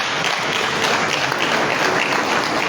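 Loud, steady applause from a large audience at a Liberian infrastructure conference, honouring Senegal's Teranga Lions football team; dense continuous clapping fills the whole stretch without a break.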